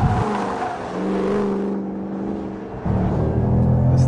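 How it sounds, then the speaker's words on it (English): A 2013 Ford Shelby GT500 on a figure-eight course roars loudly as it accelerates hard out of corners, its engine note climbing, dipping briefly, then surging again at close range. "this thing accelerates so hard out of corners"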